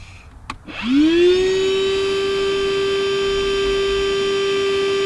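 A steady mechanical drone starts up after a brief click and holds a constant pitch, loud and close, a vacuum pump running continuously on an HVAC unit.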